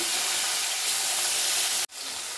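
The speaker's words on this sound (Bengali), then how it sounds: "এবার বলেছিলেন আলুগুলোকে ভেজে নিতে" Potatoes frying in hot oil with bay leaf, dried red chilli and cumin, giving a steady, loud, close hiss that cuts out abruptly near the end and then resumes more softly.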